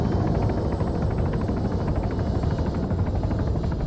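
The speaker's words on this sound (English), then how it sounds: "I always like this helicopter" A helicopter in the military game Arma 3 flies steadily, its constant rotor thrum and turbine whine filling the mix at an even level throughout, with no voices.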